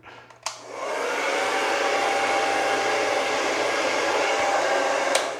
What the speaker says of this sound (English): I'm going to point the blow dryer in the direction that I want the hair to go